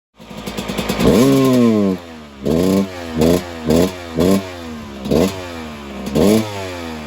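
A Suzuki RM250 two-stroke motorcycle engine, running a rich jet, rasps up loudly and then bogs down. A long rev is followed by six short, choppy blips, each one sagging instead of revving out cleanly.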